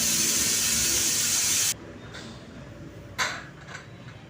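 A pressure cooker holding mushrooms and potatoes lets out a loud, sustained hissing whistle of steam that stops abruptly, followed by a short second puff of steam and faint kitchen clatter.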